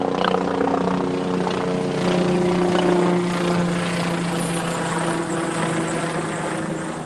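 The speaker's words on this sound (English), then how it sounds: "That's a helicopter." A helicopter drones steadily overhead, its rotor and engine hum loud and continuous, with a low throbbing tone that fades slightly toward the end.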